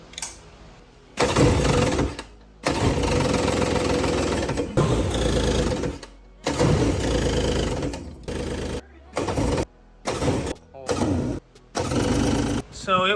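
The outboard engine of a 1999 Yamaha jet boat cranking and catching in repeated bursts. Long churning runs break into short choppy stops and starts, loud and close.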